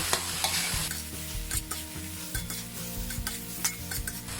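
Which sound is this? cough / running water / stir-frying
stir-frying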